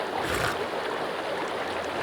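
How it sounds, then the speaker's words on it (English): Flowing river water in the video game Sons of the Forest, a steady broadband rush and gurgle that stays loud and even for about two seconds, with no voices over it. "Oh, the river still got water in it."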